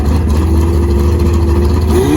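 A 400hp Honda Civic engine at a drag strip, held loud and close in a steady high drone that climbs in pitch near the end as it pulls.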